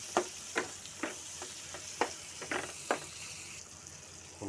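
Carp roe frying in a pan with turmeric powder, stirred by hand: a steady sizzle of hot oil with about seven sharp scraping strokes of the spoon at irregular intervals, close and fairly soft, with no voices.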